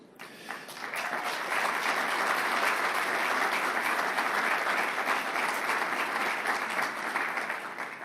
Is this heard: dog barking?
no